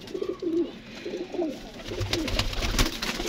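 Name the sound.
pigeons cooing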